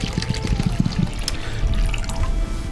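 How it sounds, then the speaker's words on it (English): Bowel-prep liquid is poured into a provided cup, a wet trickling splash close up with small drips and gurgles. "It is 6 ounces of prep that you pour into the cup that's provided and then mix with a clear liquid of your choice."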